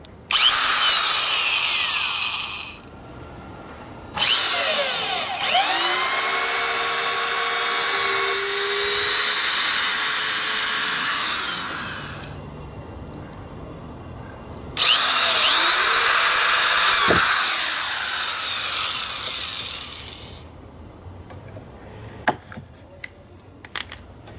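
Cast-metal Black & Decker power drill driving into a wooden double-height raised bed: long, loud steady whirring runs with rising pitch, stopping and restarting twice, then a few sharp knocks at the end.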